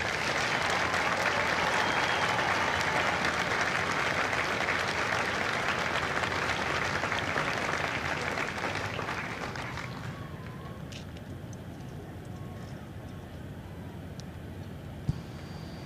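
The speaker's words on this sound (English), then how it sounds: "please join me in a round of applause for the company staff of Company I" Crowd applause at a Marine Corps recruit graduation ceremony in San Diego, a broad steady clapping that holds for several seconds then thins and fades to a quieter outdoor hum.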